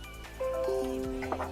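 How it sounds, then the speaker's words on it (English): A device chime sounds as an SD card is detected by a USB-C port adapter: a short melodic run of sustained tones stepping through a few notes, clear and close, with no talking. "and if you heard that ringtone, it did detect the SD card here."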